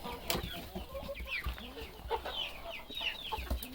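Hens cluck and chatter in a moulting backyard flock, several birds close by in a busy, uneven stream of calls with some wing flutters and rustling.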